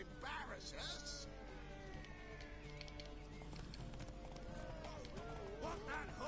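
Horse hooves clip-clop in The Witcher 3 game, a running gallop under voices and game music, with a brief whinny mixed in.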